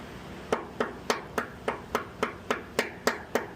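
Rubber-faced dead blow hammer seating a trunnion bushing into its bore: eleven sharp, evenly spaced knocks about a third of a second apart, close and distinct with no talk.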